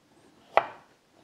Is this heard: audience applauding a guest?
no